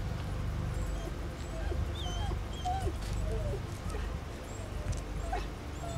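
A dog in the Blair Witch video game whimpers and yips in short high cries, scattered over a dense low rumble of game ambience, fairly close and moderately loud.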